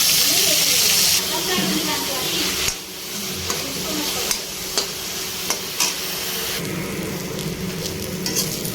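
Moringa (drumstick) leaves fry in a pan, opening with a loud sizzling hiss that settles into a softer crackle broken by several sharp spatula scrapes and taps.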